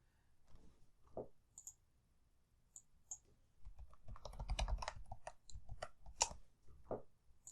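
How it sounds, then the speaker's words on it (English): Soft, quick keystrokes clatter on a computer keyboard, sparse at first and then a denser run of close, quiet typing. "I am typing again."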